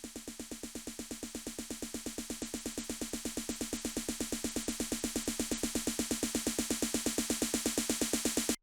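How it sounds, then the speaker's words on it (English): A rapid, steady trap-style snare roll in a tech house track, with crisp, evenly spaced hits that build slightly in loudness over several seconds before stopping abruptly. "a snare roll with a trap kind of snare which sounds like this"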